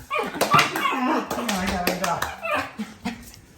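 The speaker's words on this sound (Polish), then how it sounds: "Zwariował pies." An excited dog in a home gives quick, close yips and barks in a burst, with a person's voice mixed in among them.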